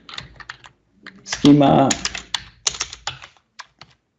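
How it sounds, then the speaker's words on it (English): A computer keyboard clatters with quick bursts of close key clicks while someone talks over it on a PC. "then you can just start typing"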